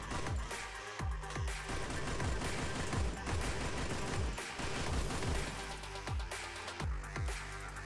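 Rapid gunfire bursts from the Free Fire mobile shooter game, with loud repeated volleys of shots in short controlled bursts, each shot a sharp crack over a dense game soundscape with music, no talking.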